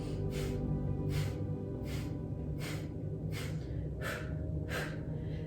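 A forceful Kapalbhati breathing practice: sharp, snappy nasal exhales repeat in a steady rhythm about every two-thirds of a second, loud and close over a constant low background hum.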